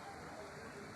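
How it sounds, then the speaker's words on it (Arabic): Heavy rain pours down as a dense, steady wash of noise, close and continuous throughout, with a voice faintly present underneath. "المطر بتمطر جامد صح؟"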